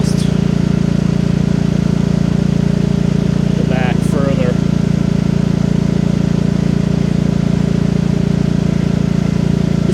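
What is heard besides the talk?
Champion 8750 tri-fuel generator running, exhaust from enclosure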